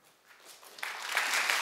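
A live comedy audience breaks into applause that starts soft and scattered, then swells quickly into full, dense clapping from many hands.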